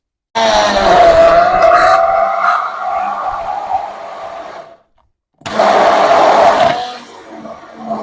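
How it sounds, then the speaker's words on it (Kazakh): A kitchen blender whirs loudly, blending milk for homemade ice cream, runs for several seconds, stops briefly, then starts again in a second burst. "Енді бұларды блендерлеп аламыз."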